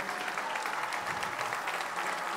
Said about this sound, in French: On peut l'applaudir bien fort, Mélanie